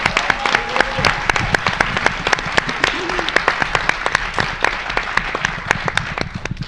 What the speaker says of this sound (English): Let's give a big round of applause for our contestants, our hosts, and our sponsors.